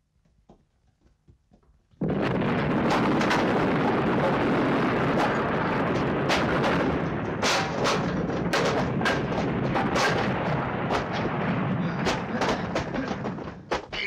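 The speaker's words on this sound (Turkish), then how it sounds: "Benim yaptığım bomba her zaman patlar!" A bomb goes off in a Turkish film scene: after near silence a sudden loud blast opens into a sustained roaring rumble with scattered cracking thuds, fading slightly toward the end.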